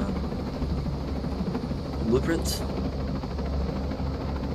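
Steady low rotor and engine drone of a helicopter in the video game Ghost Recon Breakpoint, heard from inside the cabin as a continuous rumble beneath a player talking.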